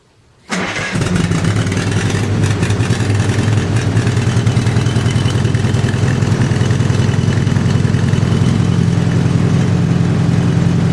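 A 1950 Farmall H tractor engine, set about halfway on the choke, cranks and catches after a short silence, then settles into a steady, loud, rumbling run with an even pulsing beat for the rest of the clip.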